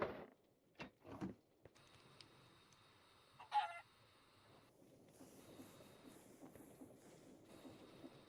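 Chickens in the video game Minecraft cluck in a few short, separate bursts near the start, followed by a soft, steady background murmur of game ambience.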